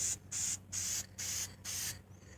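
Aerosol spray paint can hissing in five short, even bursts, close and fairly quiet, with brief pauses between each spray while coating a small craft magnet.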